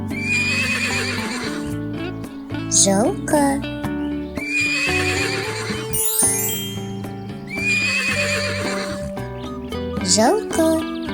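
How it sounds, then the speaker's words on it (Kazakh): A horse neighs and whinnies in three repeated bursts, loud and near, each shrill call rising then falling, over steady low background tones. "Жылқы."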